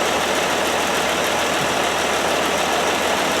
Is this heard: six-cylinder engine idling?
yes